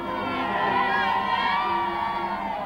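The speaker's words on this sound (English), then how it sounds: "the Bromley Salvation Army Band continues to entertain this huge crowd" A huge outdoor crowd lines the royal route in Bromley, awaiting a royal visit. A dense, sustained din of voices and cheering fills the scene, loud and continuous, with children's shouts rising out of the mass.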